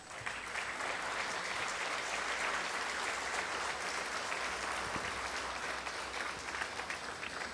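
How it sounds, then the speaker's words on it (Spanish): A church congregation applauding during a sermon, a thick, sustained wash of many hands clapping, steady and moderately loud for the whole stretch with no voices standing out. "Le podemos dar un aplauso al Señor."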